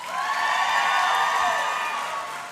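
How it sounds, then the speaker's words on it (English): Graduates at a university convocation ceremony applauding their support network, a large hall full of sustained clapping and some cheering that swells and then slowly fades. "A round of applause from the graduates to their support network."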